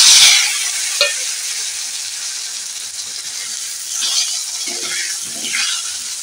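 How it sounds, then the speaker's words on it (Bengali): Four potato pieces frying in a pan with loud, close, steady hissing sizzle throughout, swelling slightly as they are stirred. "আলুগুলো একটু ভেজে নেব।"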